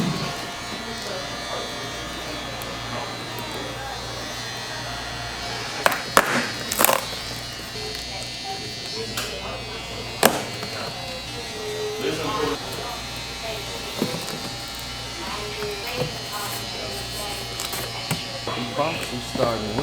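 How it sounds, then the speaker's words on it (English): A Beam Team Cordless Compressor XL runs with a steady electric buzz and hum throughout, heard in a barbershop setting before haircuts. Occasional clicks and knocks sound over it, and a person talks across much of the time. "we starting off with the XL Beam Team Cordless Compressor"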